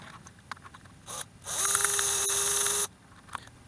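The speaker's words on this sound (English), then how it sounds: "I need to see how much I'm drilling." A power drill whirs steadily for over a second, close and loud, after a couple of brief clicks and short bursts.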